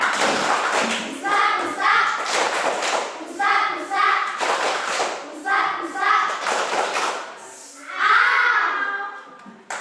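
A classroom of young children performs the 'tepuk dokter' clapping chant, their sung voices in rhythmic phrases punctuated by sharp group claps and thuds, close and lively throughout.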